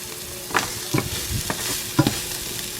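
Carrots sauté in a pan after garlic, with a steady close sizzle and a few stirring scrapes over the short stretch.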